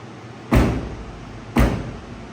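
A single cab truck door fitted onto a crew cab pickup slams shut twice, each a loud, close thud about a second apart with no talking.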